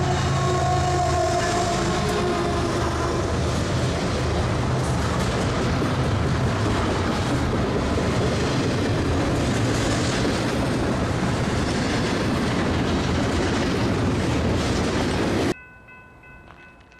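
A BNSF freight train rolls past at close range in Naperville, Illinois, a loud, steady rush of wheels and rail noise with clattering cars and a brief horn tone early on, holding for about fifteen seconds before cutting off.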